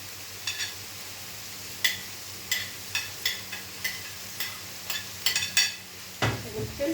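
Mushrooms going into a pan with mussels and being stirred give a series of sharp scrapes and clinks of utensil on cookware, a dozen or so irregular hits over a faint background, with a louder clatter near the end.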